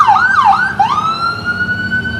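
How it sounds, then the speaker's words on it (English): An ambulance siren wails loudly nearby, sweeping up and down quickly, then settling into a steady high tone. "looks like we got an ambulance going on in the background"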